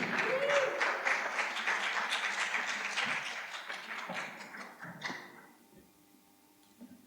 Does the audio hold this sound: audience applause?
yes